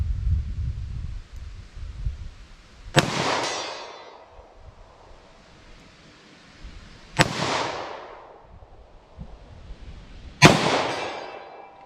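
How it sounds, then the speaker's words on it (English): Three sharp .38 Special revolver shots, fired at a 75-yard outdoor range, crack loudly several seconds apart, each followed by a long rolling echo fading into quiet. "So let me shoot from 75 yards with these."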